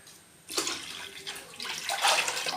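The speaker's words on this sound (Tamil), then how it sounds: "இப்போ அடுத்த தண்ணி ஊற்ற போகிறோம் நம்ம." Water pours into a pot in a steady stream starting after a brief quiet moment, splashing and gurgling close by as the level rises.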